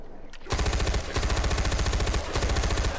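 Rapid automatic gunfire in the Far Cry 4 video game, played on a custom zombie survival map; loud, close bursts of fast repeated shots with brief pauses between them, and no talk.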